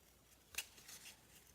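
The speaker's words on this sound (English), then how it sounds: "I'm not doing a very good job cutting. It could be my scissors." A single quick snip of scissors cutting a paper stencil, faint and close, followed by soft paper rustling in an otherwise quiet room.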